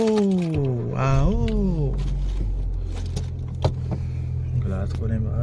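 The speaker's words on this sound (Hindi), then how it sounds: "आओ बैठते हैं गाड़ी में, गाड़ी स्टार्ट करते हैं" A car is started, with a brief whirring crank in the first couple of seconds, then a low steady engine idle hum, with scattered clicks and a clunk partway through and a voice speaking at the start.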